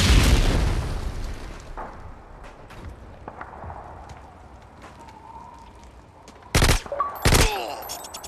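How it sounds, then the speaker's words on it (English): A stun grenade goes off in a tactical shooter match, a loud burst followed by a fading rumble and scattered faint pops, then two sharp loud bangs near the end. "Throwing a stun grenade!"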